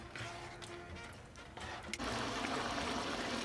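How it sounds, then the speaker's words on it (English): Meat simmering in red chile sauce comes to a boil in a pot over high heat, giving a steady bubbling, watery hiss that grows louder and denser partway through, with no voices. "So once it comes to a boil like this"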